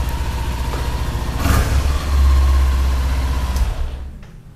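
Kawasaki Ninja 400 motorcycle engine running close by at a steady idle, swelling into a louder rev for a couple of seconds before settling and fading away at the end.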